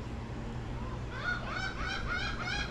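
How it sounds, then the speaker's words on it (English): A bird calls out with a run of loud, goose-like honks over steady outdoor noise on a Dauphin Island shore, starting softly and growing more insistent. "there's a bird hollering at me."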